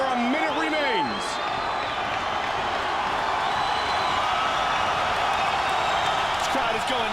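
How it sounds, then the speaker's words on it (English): Arena crowd at a light heavyweight fight roaring steadily and loudly throughout, a continuous wash of cheering with a commentator's voice talking over it at the start. "This crowd is going nuts."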